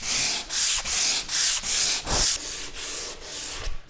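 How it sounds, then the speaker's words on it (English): Wood is sanded by hand with 120 grit sandpaper for a chopping board. About six long, even strokes rasp close up, then blend into a steadier rubbing. "what I'm going to do is just nice long strokes with this sandpaper, 120 grit"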